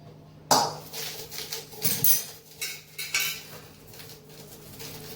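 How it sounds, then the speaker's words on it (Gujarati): Dal fry being stirred in a metal pot, a spoon scraping and clinking against the sides in a quick irregular series of strikes, fairly close, with no talking. "દાળને આપણે સરસ મજાની મિક્સ કરી લઈશું."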